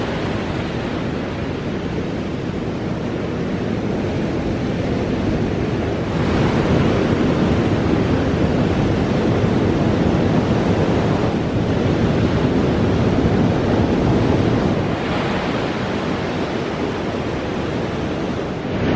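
Ocean surf rolls onto a beach as the tide comes in fast, a loud, continuous wash of breaking waves with wind buffeting the microphone and swelling surges every few seconds.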